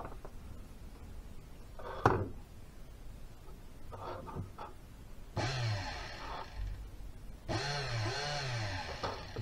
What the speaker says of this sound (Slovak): To sú zase motory na pohon.